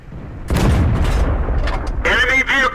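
A tank's main gun fires in World of Tanks, a heavy boom with a rumbling crash that destroys an enemy vehicle, followed by a short synthetic announcer voice.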